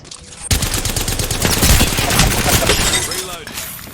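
Dense, sustained gunfire from a shooter video game starts abruptly and rattles on at close range, loud and continuous like automatic bursts, with a voice talking underneath.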